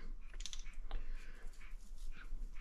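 Chico fruit being peeled by hand, its soft, prickly skin torn away in a few short crackling, tearing bursts, close and fairly quiet, with no talking.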